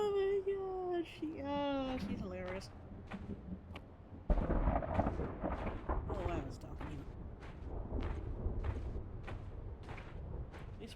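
Thunderstorm in the video game Return to Grace: after a voice and tonal sounds at the start, a sudden deep rumble breaks in and keeps rolling with repeated crackling bursts, moderately loud and close.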